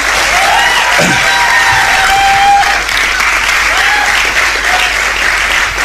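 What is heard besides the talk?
audience applause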